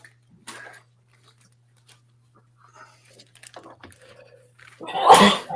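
A single loud sneeze bursts out near the end after a stretch of faint background sounds, close to the microphone in a backstage livestream setting during a building marathon.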